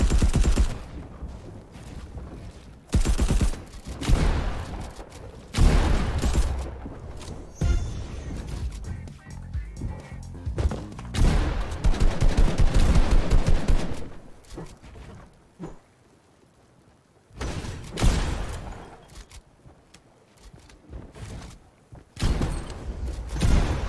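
Fortnite solo match gunfire comes in repeated bursts of loud close-range shots and rapid volleys with short pauses between them, mixed with in-game mechanical clatter and scattered effects.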